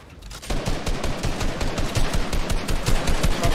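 Rapid bursts of gunfire from a Fortnite match, a dense string of sharp repeated shots going nearly continuously, loud and close, with no talk over them.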